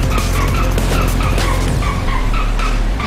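A car in the video game Payday 2 revs and skids, its engine droning loudly while tires squeal in repeated rising chirps, close and continuous with no talking.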